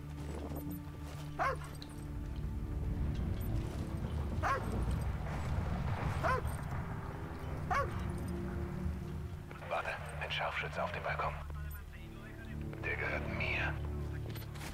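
Dog barking in the Call of Duty: Ghosts video game, several sharp barks and yips spaced across a noisy battlefield ambience with someone talking over it.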